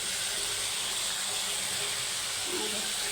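Eggs dropped into spice paste frying in hot oil set off a loud, steady sizzling hiss close by that continues throughout, with a voice speaking faintly beneath it.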